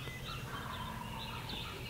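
A wild turkey gobbles in hardwood hill country at sunrise, several rolling gobbles carried from a distance and faint over steady outdoor ambience.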